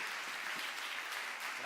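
An audience at a literary gathering applauds, a short burst of steady many-handed clapping heard at a moderate distance.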